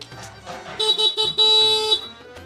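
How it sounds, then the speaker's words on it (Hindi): Horn of a motorcycle in a village, several short loud honks in a quick broken series followed by one longer blast, close by. "मोटरसाइकिल का हॉर्न बजा दिया।"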